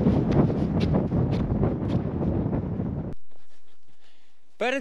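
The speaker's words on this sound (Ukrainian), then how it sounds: "Перед підйомом на хребет явно посилився вітер." Strong mountain wind gusts roar across the microphone before the climb onto a ridge, a loud continuous buffeting that cuts off abruptly, leaving faint background and a brief call at the end.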